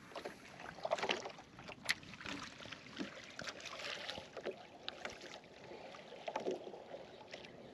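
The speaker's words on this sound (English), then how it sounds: "I'm just using the trolling motor to keep me in here." An electric trolling motor hums quietly on a fishing boat out on tidal water, a low steady drone mixed with water lapping and light wind, with occasional small knocks against the hull.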